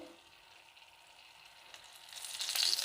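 Stuffed green chillies (bharli mirchi) frying in oil over a gas flame, a faint, soft sizzle that swells louder toward the end, with no voices.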